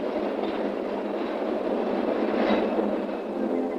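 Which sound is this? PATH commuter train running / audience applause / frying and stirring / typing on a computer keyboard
PATH commuter train running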